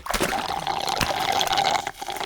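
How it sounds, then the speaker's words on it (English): Bubbling and trickling water from an office water cooler, a steady liquid gurgle with brief splashy bursts, continuous and fairly close throughout. "There are too many bubbles in this office water."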